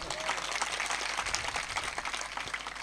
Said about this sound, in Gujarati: એકવાર તાળીથી વધાવો.